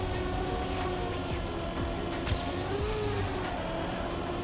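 A racing car engine in a video game holds a steady drone with shifting harmonic pitch as it revs, loud and continuous throughout.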